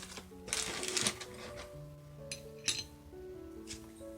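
Small metal washer clinking and tapping as it is handled during tiered coastal tray assembly, several light bright clicks close up over a soft background hum.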